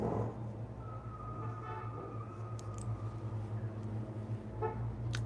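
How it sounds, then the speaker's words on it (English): Car horns honking outside in traffic, faint and distant: a long, thin horn tone followed by a few short toots over a low steady rumble of cars. "Some of the horns are so funny sounding."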